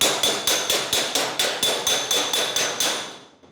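A hammer strikes a steel fender panel held against a dolly, about a dozen sharp, evenly spaced ringing blows at a steady rhythm, close and loud, with the ring fading at the end.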